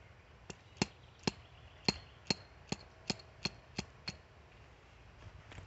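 Obsidian being knapped and thinned by percussion, removing very small flakes: about ten sharp, clicking taps at a slightly uneven pace, close and moderately loud over a quiet background, with no voices.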